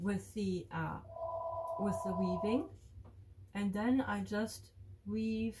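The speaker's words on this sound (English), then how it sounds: "Sorry for the phone, I forgot to unplug it" A landline telephone rings with a steady, evenly pulsed electronic trill partway through, heard beneath someone talking as she weaves a triangle on a square loom.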